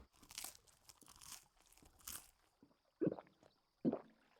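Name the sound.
eating crunchy bread from tavern, Final Fantasy XVI video game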